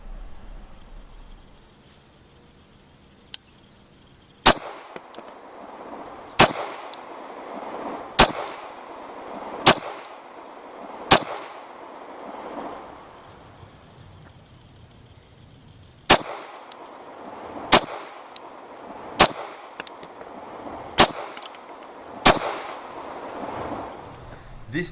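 Slow, evenly spaced pistol shots from a Canik P120 fired at 7 yards, roughly a dozen sharp cracks each followed by a short ringing tail, with quiet outdoor range ambience between rounds.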